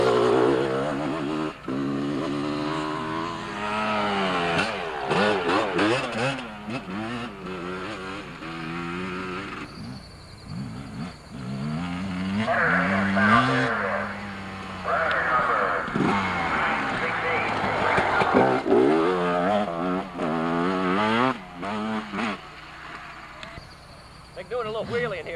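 Enduro motorcycles at the ISDE in Sand Springs, Oklahoma, rev and whine past in repeated waves, engine pitch rising and falling as bikes accelerate near and far over the whole stretch, with people talking intermittently over them.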